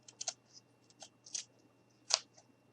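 Scissors snipping excess black felt while making gnome shoes, a few soft, separate cuts with one sharper snip near the end, close and alone in a quiet room.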